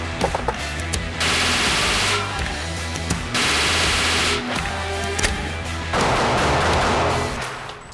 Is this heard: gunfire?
yes